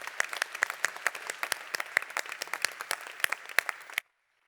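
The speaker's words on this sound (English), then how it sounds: "A round of applause, Rebecca Nordquist." Applause from a small conference audience, scattered clapping that is steady and moderately loud, then stops abruptly.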